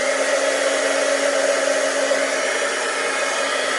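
A heat tool blows hot air steadily to melt embossing powder for a stamped card, a constant loud whirring rush with a fan hum that holds unchanged throughout, with no voices.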